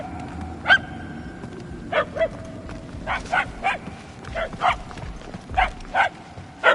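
Sharp, distinct dog barks ring out in irregular bursts, about a dozen across several seconds, from the hallways of the Guardians of the Galaxy video game. They sound fairly close and stand clear of a low, rumbling background.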